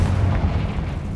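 A short, heavy explosive boom rumbles from the Confringo fire spell in the Hogwarts Legacy game, a single low blast lasting about a second.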